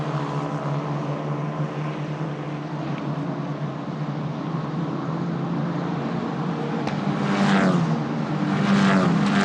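Formula 4 single-seaters at Vallelunga circuit in an Italian F4 race, a steady loud engine drone under distant crowd ambience, rising toward the end as cars accelerate out of a slow corner.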